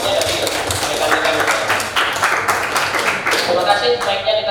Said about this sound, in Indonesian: tepuk tangan untuk refleksinya dari rekan-rekan.